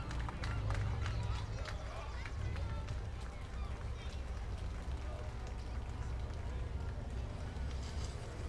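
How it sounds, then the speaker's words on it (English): Crowd along a Fourth of July parade route in Oshkosh cheering and clapping for the passing flag, scattered claps and voices in open air, with a narrator talking over the crowd. "As you can hear the cheers and clapping for our beautiful flag"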